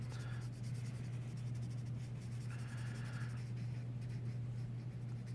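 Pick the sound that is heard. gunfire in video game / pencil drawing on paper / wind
pencil drawing on paper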